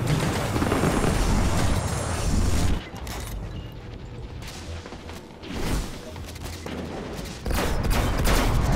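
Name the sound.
gunfire in the video game Destiny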